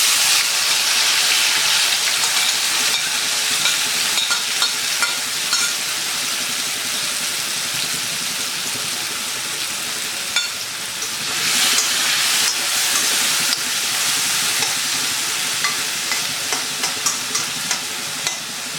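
Bitter gourd rubbed with salt and turmeric sizzles steadily in hot coconut oil over a low-medium flame, a dense close crackling hiss that runs throughout with occasional sharper spatters and stirring clinks.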